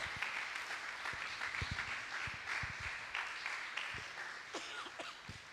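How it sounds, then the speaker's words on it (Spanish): Applause from a church congregation at a Sunday sermon, steady dense clapping filling the whole stretch at moderate distance, with no speech over it. "Dele un aplauso al Señor."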